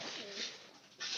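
Pigeons kept by a local fancier coo softly in a low, rolling call, fairly faint and close, with a brief second coo at the end and no talking.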